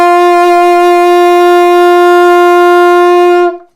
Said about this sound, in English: and we've added in the register key, and that is the middle D